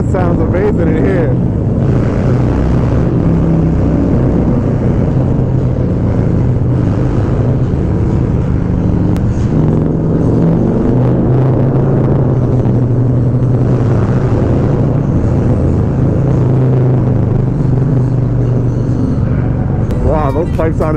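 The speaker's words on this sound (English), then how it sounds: "Those pipes sound amazing." Deep, continuous motorcycle exhaust rumble fills a reverberant tunnel, droning steadily for the whole stretch with no break.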